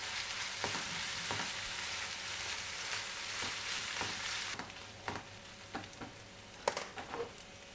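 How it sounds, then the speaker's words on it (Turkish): Minced meat filling with black pepper and tomato paste sizzles in a frying pan as it is stirred, a constant crackling fry punctuated by sharp scraping strokes of the spoon, close and clear with no talking. "Yarım tatlı kaşığı kadar çok olmadan domates salçasını da ilave edip karıştırıyorum."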